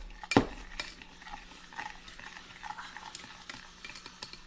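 A whisk scrapes and taps around a pot of cocoa mixture for no-bake cookies, opening with one sharp clank against the metal, then lighter irregular stirring strokes, close by and with no talking.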